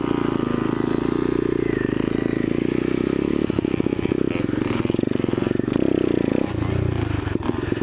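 A Yamaha YZ80 two-stroke pit bike rides through a muddy field, its engine buzzing loud and close throughout with rattles and clatter from the ride, and a brief dip as the throttle eases.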